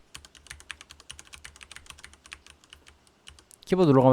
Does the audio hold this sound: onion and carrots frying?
no